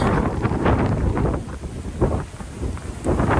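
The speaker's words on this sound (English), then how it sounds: "Cursed wind." Wind blowing outdoors in late winter, buffeting the microphone in loud, rumbling gusts that rise and fall throughout.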